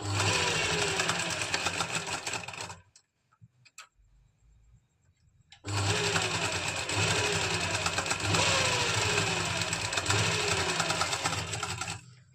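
An electric sewing machine stitches the pleated plates of a kurti in a fast, rhythmic mechanical chatter, close and loud, stopping for a few seconds of quiet handling before running steadily again.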